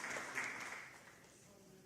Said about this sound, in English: Cuben, a round of applause.